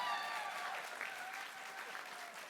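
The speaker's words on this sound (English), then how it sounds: "You can applaud." Audience at a chamber of commerce membership gathering applauding, a fairly faint but continuous patter of many hands that tapers slightly toward the end, with no talk over it.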